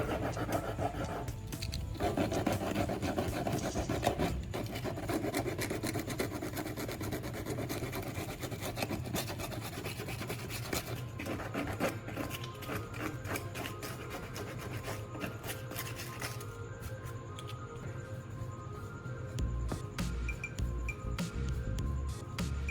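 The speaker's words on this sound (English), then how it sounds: "Use a file or sandpaper to smooth both sides so the glue can hold better." A file or sandpaper rasps back and forth over the cracked edges of a plastic flower pot, a steady, close, continuous scraping with a rhythmic texture and no talking.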